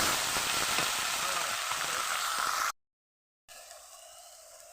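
Whole spices poured into hot oil for a mutton gravy set off a loud, steady broadband sizzle, which cuts out abruptly into a gap of silence and then returns quieter and thinner.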